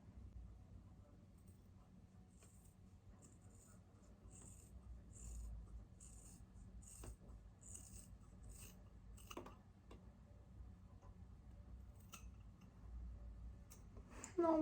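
Scissors snip through hair in a string of soft, close, quiet cuts and light rustles at an uneven pace, with faint background sound between snips.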